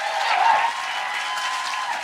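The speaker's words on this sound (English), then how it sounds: "Give yourselves a round of applause for making it out." Audience applause at the end of a live show, a dense even wash of clapping from a crowd lasting about two seconds with a faint tone riding over it.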